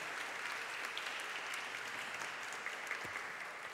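A public debate audience in Niterói gives a round of applause, a dense, steady wash of many hands clapping that holds at an even level from start to finish with no talk over it.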